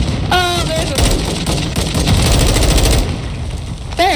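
Rapid automatic gunfire crackles steadily in a first-person shooter match on the Ashika map, loud and continuous for several seconds with a brief pause near the end, while a player's voice chirps over it.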